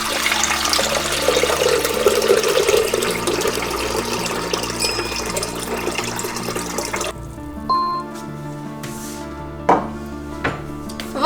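About 1.5 litres of water pours into the mixing bowl of a Monsieur Cuisine kitchen machine as a continuous close rushing splash for roughly seven seconds, then cuts off, leaving a quiet room broken by a few brief clicks and knocks.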